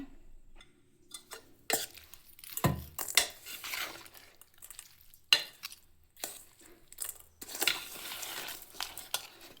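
Poha, grated coconut, banana, sugar and jaggery being mixed in a bowl for a simple temple offering, with irregular scraping, clinking spoon-on-bowl taps and stirring rustles over about ten seconds, no talk.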